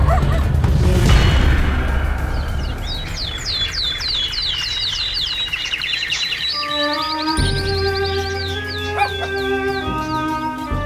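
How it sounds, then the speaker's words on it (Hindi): A dog barks in a short burst, followed by high yips and whimpering cries over a background of chirping tones and a low hum, fairly loud and near, with no speech. "परम एक कुत्ता बनकर दौड़कर निकल गया घर से बाहर।"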